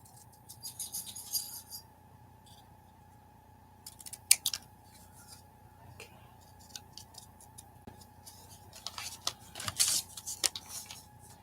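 Paper is trimmed with scissors at a desk for a collage book, soft intermittent snips and paper handling, one sharper click near the middle and a busier cluster of cuts toward the end, all quiet and close over a low background hum.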